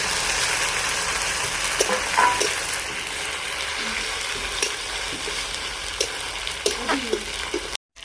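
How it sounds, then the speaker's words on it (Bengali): Steady close sizzling of ginger paste, cumin paste and green chillies frying in a pan, with occasional scraping and stirring clicks throughout. "মশলাটা ভালো করে কষে নেব"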